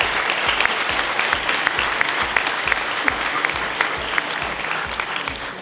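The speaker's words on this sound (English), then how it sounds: "let's give them a round of applause" Wedding guests at a community house reception break into sustained applause, a dense, even wash of many hands clapping together that holds steady throughout without speech.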